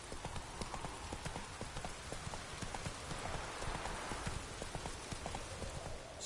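The horse Roach in The Witcher game trots with a brisk, steady run of clip-clopping hooves, close and clear over a soft patter like rain.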